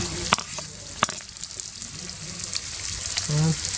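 Green chillies sizzle and fry in a hot pan for a rabbit roast, a steady close crackle punctuated by sharp clinks of a utensil stirring against the pan.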